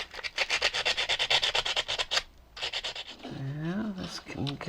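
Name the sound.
sanding a toy racetrack part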